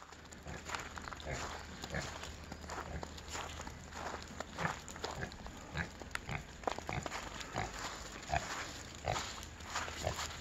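Pig grunting and shuffling inside an insulated, heated dog house on a farm, with irregular snorts and footstep-like rustles close by, fairly loud throughout.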